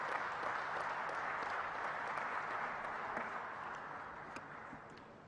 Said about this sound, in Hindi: तालियों से स्वागत माननीय प्रधानमंत्री जी का।